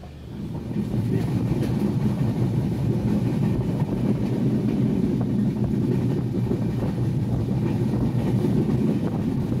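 A fast passenger train between Chakmohar station and Rajshahi keeps up a steady, loud rumble and rattle of wheels and carriages, heard from inside with wind noise and no letup.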